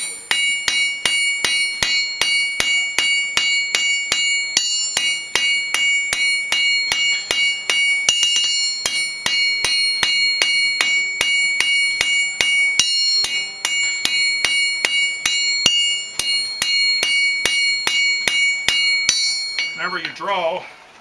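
A blacksmith draws hot roll stock down to a point on an anvil, ringing hammer strikes falling in a steady, fast rhythm with bright metallic overtones, loud and close, for about twenty seconds before stopping.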